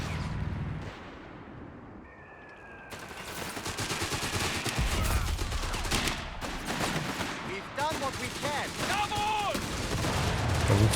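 Machine gun bursts and scattered gunfire from a Company of Heroes 3 battle, with rapid rattling volleys and explosions mixed into a dense combat soundscape, moderately loud throughout.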